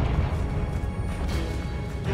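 A Confringo blasting spell explodes in Hogwarts Legacy, giving a dense, rumbling crash that fills the whole moment with heavy low-end debris noise.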